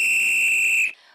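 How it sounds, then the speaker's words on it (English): A logger's whistle sounds one loud, steady, high blast that holds for almost a second and then cuts off sharply, leaving a faint trace behind it. "he always carries a whistle. And he blew that whistle through the night."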